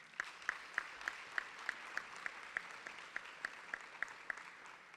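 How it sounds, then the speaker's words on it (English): Audience applause for Congressman Rogers at a Rogers Scholars graduation, faint and fairly sparse, with a steady wash of clapping and a few distinct claps standing out at a regular pace. "we need a special round of applause for Congressman Rogers"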